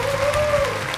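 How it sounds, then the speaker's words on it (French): A studio audience on a French television quiz show applauds in a short, steady burst of clapping, loud and close. "Applaudi par Christophe."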